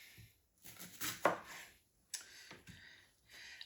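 Knife dicing 1.5 peppers into small pieces on a cutting board, a few irregular bursts of chopping taps separated by short pauses, close and fairly quiet.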